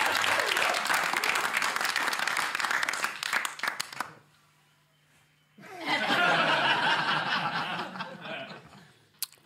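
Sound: audience applause for a comedian

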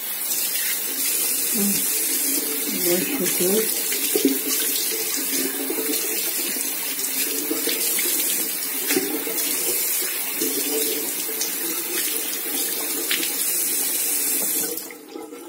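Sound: water running from a tap while washing

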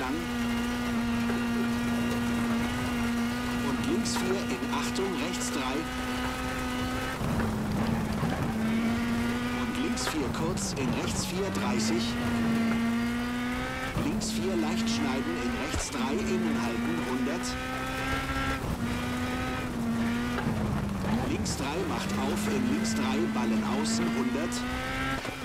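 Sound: rally car engine accelerating in WRC 10 video game

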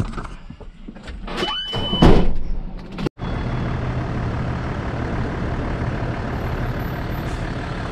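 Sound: car pulling out of a parking space

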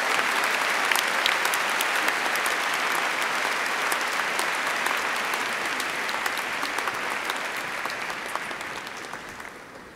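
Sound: applause for graduates

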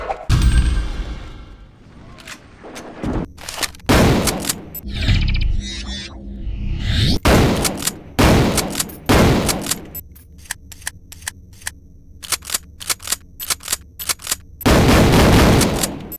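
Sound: shotgun firing in a first-person shooter video game

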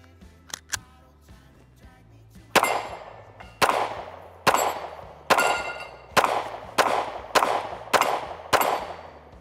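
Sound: Canik Mete MC9L pistol shots hitting a steel plate

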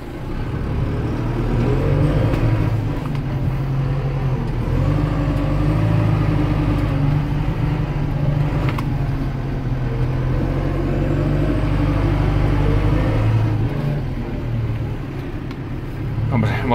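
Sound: Renault Celtis 456 RX tractor driving back and forth

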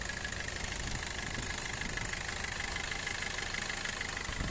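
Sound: Maruti Suzuki Brezza VDI 2018 diesel engine idling

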